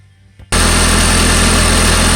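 Audi A4 1.8T idling after a Spectre cold air intake install, starting abruptly and then holding a loud, steady, even rumble with a constant throbbing pulse and no voices over it.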